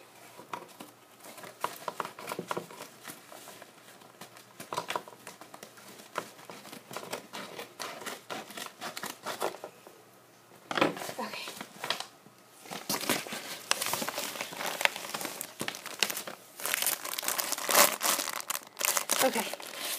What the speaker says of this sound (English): But let me just cut it open.